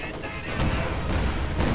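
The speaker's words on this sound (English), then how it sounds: "Nice incendiary mortar going off right there." An incendiary mortar strike in a strategy war game, a dense rumbling blast with crackling debris that stays loud and sustained throughout, without a distinct single boom.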